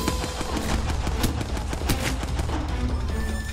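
Rapid gunfire in the video game Apex Legends, dense overlapping shots and bursts crackling continuously and loudly for the whole stretch, close and busy like an intense firefight.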